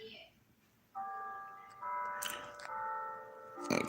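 A stock market opening bell rings out as a sustained, clear bell tone that starts about a second in and layers into a louder chime through to the end, with faint voices underneath.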